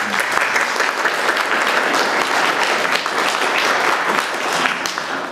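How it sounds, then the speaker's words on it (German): Steady applause from a seated audience at an artist talk during a Munich comic festival, an even, moderately loud patter of many hands clapping for the full stretch without a break. "Einen kleinen Applaus."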